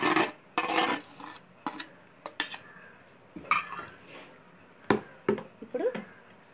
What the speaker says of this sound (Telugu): అలాగే కాల్చి పెట్టుకున్న వంకాయని కూడా కలిపేసుకుందాం